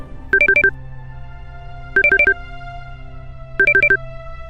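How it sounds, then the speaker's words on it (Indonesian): A phone rings in three short bursts of rapid electronic trills, spaced about a second and a half apart, clear and fairly close, over a low steady hum. "Di tempat lain, telepon di rumah Nisa berdering."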